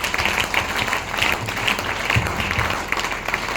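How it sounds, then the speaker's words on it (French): A church congregation applauds for the Lord with a steady, close clapping that lasts a few seconds, all hands at once, with no voices over it. "Acclamez pour le Seigneur."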